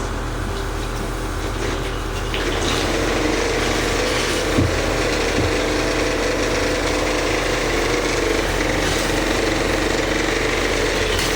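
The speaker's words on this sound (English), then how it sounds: "Less racket from the actual prop shaft, which was making a lot of noise earlier. 50 psi." An engine drives a prop shaft under about 50 psi of pressure, a loud, steady mechanical drone with rattling texture that holds constant throughout, with no talk over it.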